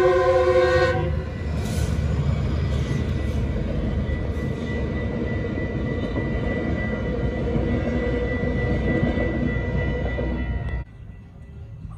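An eastbound Metrolink commuter train roars past at close range at San Clemente, its horn sounding loudly at the start before the rumble drops away abruptly near the end.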